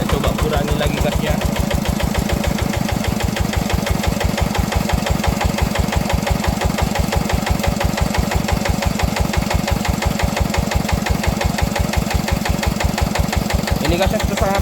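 Tractor engine converted to drive a water pump, idling at very low throttle with a steady rapid knocking chug, loud and close, running continuously throughout.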